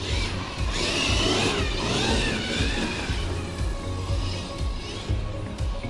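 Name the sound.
Traxxas X-Maxx RC car motor at full throttle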